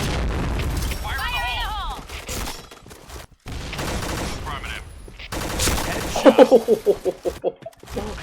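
A bright pink Pink Dragon gun fires in the shooter game Point Blank: a rapid string of sharp, close shots late in the moment, with someone talking over game sounds before it.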